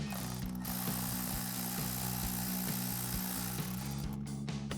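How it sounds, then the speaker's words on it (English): Socket ratchet working an 8mm bolt on the cold air intake of a 2021-2024 EcoBoost Ford Bronco, giving a steady run of quick, faint clicks with no talk, over low mechanical background hum. "So we'll grab our 8mm socket for our bolt."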